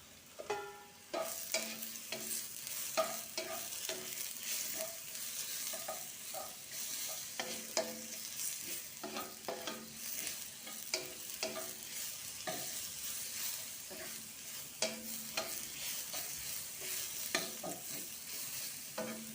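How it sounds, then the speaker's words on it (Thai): Long eggplant stir-fried with seasoned beaten eggs in a pan, continuous sizzle broken by frequent clattering spatula strokes and scrapes, close and alone without talk. "ผัดมะเขือใส่ไข่นะทุกคน"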